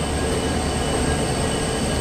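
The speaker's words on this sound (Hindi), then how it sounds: "और हमारी ट्रेन अब बढ़ रही है मैंगलोर की ओर" Gomteshwar Express running on rails toward Mangalore, heard as a loud, steady rumble of wheels on track with a metallic squeal riding over it.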